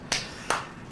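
Three slow, evenly spaced single hand claps, crisp and fairly close, with quiet gaps between them.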